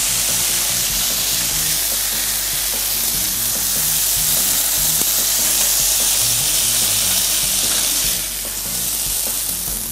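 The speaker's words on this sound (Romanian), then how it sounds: "Să amestecăm puțin." Vegetables fry and are stirred in a pan, a loud, unbroken sizzle and hiss with faint scraping of the stirring throughout.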